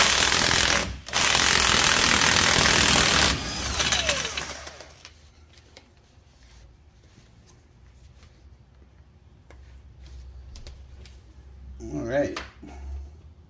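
A Kobalt impact wrench hammers away on a truck's front suspension in a loud, dense burst lasting a few seconds. It cuts off abruptly, leaving quieter clinks and handling sounds, and a short rattle follows near the end.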